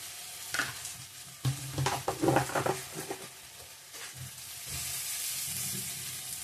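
Onion, garlic and spices are being cooked down in a pan, with several bursts of stirring and clattering early on, then a steady sizzle that grows louder toward the end.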